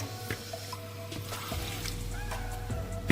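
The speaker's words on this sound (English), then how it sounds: "So I'm going to add in more water" Water poured into a pot of cooking potatoes and beans, a close, continuous splashing fill with a few small clinks over a low background hum.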